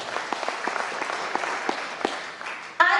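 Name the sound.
applause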